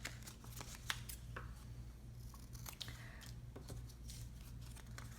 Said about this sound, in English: if they're attached, just cut them apart